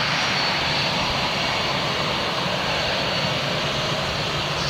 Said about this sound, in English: This is probably a private jet.